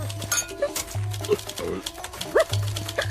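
A dog in an adventure audio drama gives short yips and whimpering barks in quick bursts, close and fairly loud, over a steady low hum with voices talking around them.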